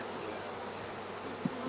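Honey bees buzz around an open hive frame holding hatched brood, a steady close insect drone with one brief louder pass near the end.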